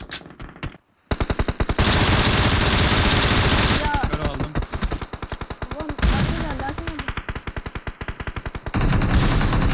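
Sustained automatic gunfire in the mobile battle royale game PUBG Mobile, loud rapid bursts in long continuous strings with brief gaps, while players talk excitedly over the shooting.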